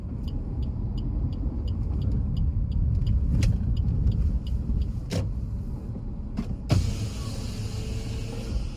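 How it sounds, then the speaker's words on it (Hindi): A car rolls into a roadside parking lot near the Jwala Ji temple in Kangra, its engine a steady close rumble, with a few sharp clicks and a brief thump partway through. "तो मैं गाड़ी अंदर ले लेता हूँ।"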